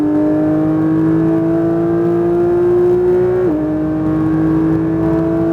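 Porsche 992 911 GT3 engine pulls steadily after an upshift on a racing circuit, a loud sustained tone climbing gradually, dipping briefly at another gear change, then rising again, heard from inside the car with no talk.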